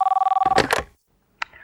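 A telephone rings loudly with a rapid electronic trill, then cuts off as the handset is picked up with a clatter, followed by silence and a brief click.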